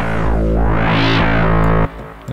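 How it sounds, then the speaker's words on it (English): Vengeance Avenger synthesizer oscillator under FM cross modulation from a very high FM oscillator gives a loud, buzzing harmonic-rich tone whose bright sweep dips, rises and falls back before cutting off abruptly near the end. "So as you can hear, this OSC is modulated by this very high FM OSC"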